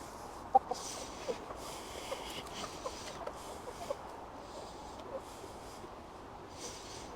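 Hens and a rooster clucking softly in an outdoor pasture, with scattered short calls and low murmuring under faint ambient noise, no talking.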